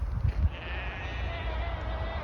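A sheep bleats twice in quick succession over a parched field in the Welsh borders, the calls fairly close amid open-air wind noise.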